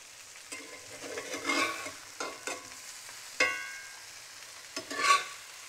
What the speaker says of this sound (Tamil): எண்ணெய் சூடாயிடுச்சு. ஸோ இப்போ நம்ம கத்திரிக்காய் பீசஸை இப்படியே வச்சுட்டு வந்துடுவோம்.